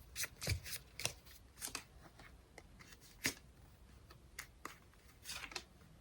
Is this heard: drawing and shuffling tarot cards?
yes